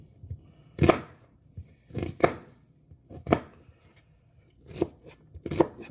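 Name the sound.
knife chopping an onion for gumbo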